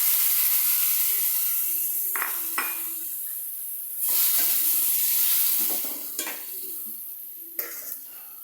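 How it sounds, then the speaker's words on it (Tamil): Boiled chickpeas and green chili fry in a pan with a continuous sizzle, broken by several sharp scrapes and clinks of a spoon stirring against the metal. "அப்புறமா வேக வைத்த கொண்டக்கடலையை அதில் ஆட் பண்ணணும்."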